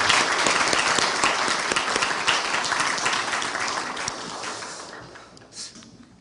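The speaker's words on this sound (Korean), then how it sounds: "우리 모두 함께 격려의 박수, 감사의 박수." Audience applause at a university chapel service, a dense sustained clapping that fills the space and fades out toward the end.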